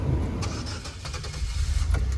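A 2004 Chevrolet Impala LS with automatic transmission starting roughly, its engine cranking and catching with uneven low rumbling and a few sharp knocks, close and fairly steady over a couple of seconds.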